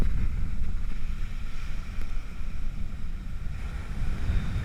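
Strong southwest wind of about 30 miles an hour blowing across a surf beach during rough-water fishing, a constant loud roar and microphone buffeting with surf rumbling underneath.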